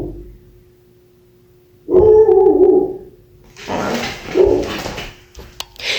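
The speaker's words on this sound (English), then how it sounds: "my dog was yelling at my cat" A dog barking at a cat indoors, a burst of loud close barks and whining yelps with a steady electrical hum underneath.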